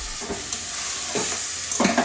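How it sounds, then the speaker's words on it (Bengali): Grated ash gourd is sautéed with spices in a pan for a curry, giving a steady soft sizzle broken by three brief stirring scrapes, the last one louder, close by with no voices. "এবারে মশলার সঙ্গে ভালো করে কষিয়ে নেব"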